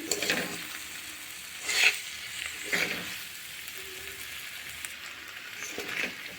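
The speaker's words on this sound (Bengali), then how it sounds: "শিম আলু ভাজার মধ্যে অল্প চিনি দিলে খেতে ভালো লাগে।" Green beans and potatoes stir-frying in a home kitchen pan, with a soft steady sizzle broken by a few louder scraping stirs of the spatula, close and alone without any talk.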